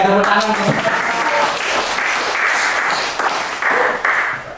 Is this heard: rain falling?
no